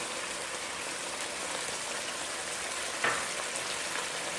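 Onions with ginger garlic paste fry in a karahi, giving a steady, even sizzle and crackle throughout, with one brief sharper hiss near the end.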